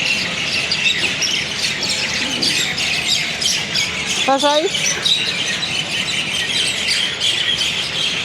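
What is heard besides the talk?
hundreds of birds squawking in Jaipur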